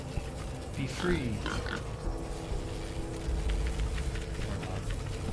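Game pigs from Wasteland 3 grunt and squeal in a short burst near the start, then fade into a continuous ambient game background with voices in it.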